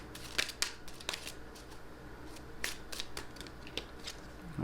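Tarot cards being shuffled by hand, quiet soft riffles and flicks coming in irregular short bursts, close up with faint room hiss and no talking.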